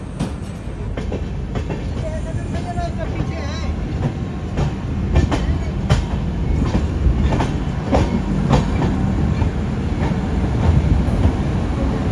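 Taj Express passenger train, number 12280 on the New Delhi to Jhansi run, rolling steadily along the rails with a continuous loud rumble and repeated clickety-clack wheel beats over the joints.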